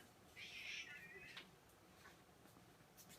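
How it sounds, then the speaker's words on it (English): A single short, high cat meow rises briefly above a quiet room, followed by faint background sounds. "Stop meowing."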